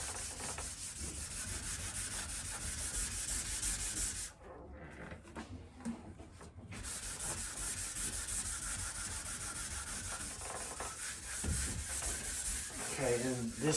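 Rhythmic gritty scrubbing strokes work paint thinner over a fiberglass door to lift stripped stain from its grooves, close and continuous with a brief pause partway through.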